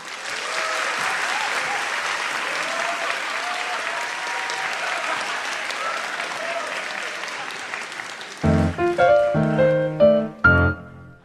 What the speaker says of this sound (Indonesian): Beri tepuk tangan yang meriah untuk Raditya Dika.